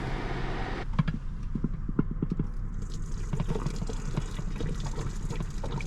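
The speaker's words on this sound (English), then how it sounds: "just go ahead and drain the rest of this in the sink" Water draining into a small sink inside a stealth camper minivan, a steady gurgling trickle with scattered drips over a constant low hum, close and moderately loud.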